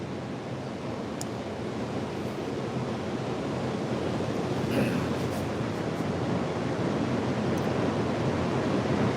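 Rough beach surf roars in a steady broadband wash, with waves rolling in continuously and wind buffeting the microphone, moderately loud and unbroken.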